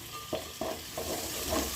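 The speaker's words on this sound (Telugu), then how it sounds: "వీటిని బాగా గట్టిగా ఫ్రై చేసుకోవాలి." Onions and spices fry in a pan for chicken curry, a steady sizzle broken by several stirring scrapes of a spoon, close and moderately loud with no talk.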